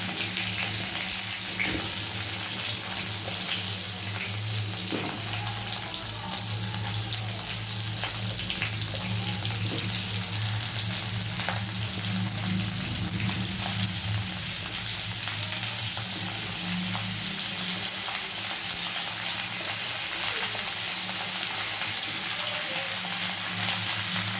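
Vegetables fry in a pan with cumin seeds, giving a steady, dense sizzle and crackle that runs unbroken throughout, close by and fairly loud, with no voices.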